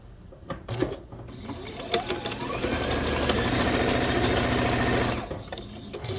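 A sewing machine stitches quilt block pieces in one steady, loud run of rapid needle strokes lasting a few seconds, with a few clicks and handling sounds before and after.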